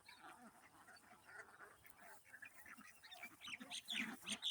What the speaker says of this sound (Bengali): হাঁস মুরগি একসাথে খাবার খাইতেছে।